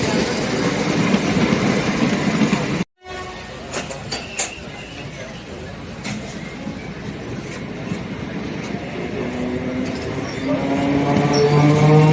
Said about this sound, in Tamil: 12 கம்பார்ட்மெண்ட் ட்ரெயின் இது பாருங்க.